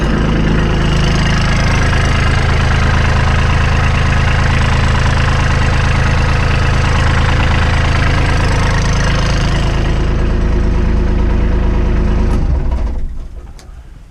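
A Kubota B2650 HSDC compact tractor's diesel engine runs loud and close at a steady idle with a rhythmic knocking clatter, then cuts off abruptly near the end.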